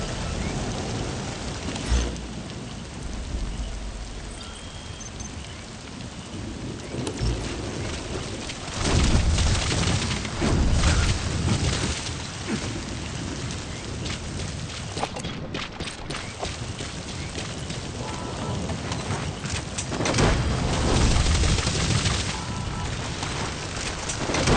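Steady rainfall in Metal Gear Solid V, a continuous hiss with several louder swells and low rumbling bursts like thunder spread through the stretch.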